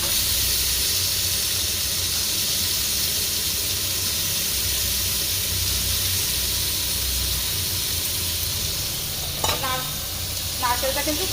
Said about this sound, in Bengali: ফ্রাই প্যানে নারকেলটা ভেজে নেব